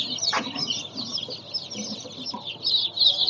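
Newly hatched local Brahma chicks peep continuously in shrill, overlapping high chirps, close and fairly quiet, with a few soft clucking sounds beneath.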